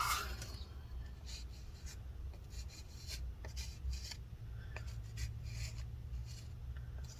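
Residue scraped inside an HP 15 laptop during a repair, dry rasping strokes in quick uneven bursts, close and fairly quiet with no talk.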